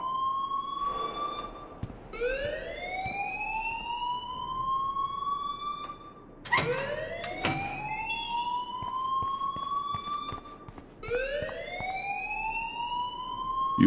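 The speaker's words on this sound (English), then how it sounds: "please turn off that alarm since that's your job." An alarm rings in the video game Life is Strange as a siren-like tone that repeatedly swoops upward and then holds, cycling about four times, loud and alone.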